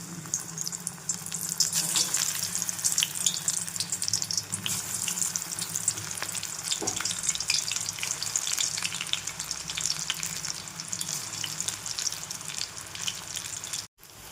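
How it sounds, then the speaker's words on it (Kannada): Gram flour batter frying in hot oil over medium flame, a loud continuous bubbling sizzle held steady for several seconds with a faint tap partway through, then cut off abruptly. "ಎಣ್ಣೆ ಕಾದಿದೆಯಾ ನೋಡಿಕೊಂಡು ಕಲಸಿಟ್ಟಿರೋಂಥ ಹಿಟ್ಟನ್ನ ಇದಕ್ಕೆ ನಿಧಾನಕ್ಕೆ ಬಿಡಬೇಕು"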